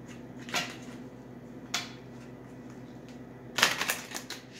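Tarot card deck being shuffled by hand, three short riffling bursts spaced apart, the last one longest and loudest, close and fairly quiet with no speech.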